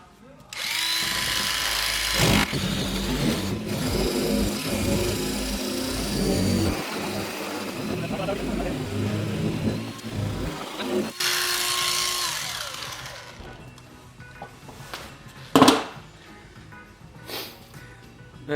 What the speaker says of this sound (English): So all we're doing, we've got the Bosch shears.